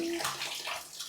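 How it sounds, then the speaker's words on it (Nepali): Water sloshes and splashes continuously while clothes are washed by hand, a brief steady watery wash with no voices. "कपडा धोइरहेको छु"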